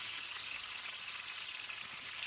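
A steady, faint sizzle of rabbit meat frying in a pan, a continuous crackling hiss with no talking.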